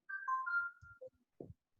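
A participant's Vivo 1904 mobile phone plays a short melodic ringtone during an online poetry session, a few clear bright notes followed by faint scattered background sounds, quiet and without talk.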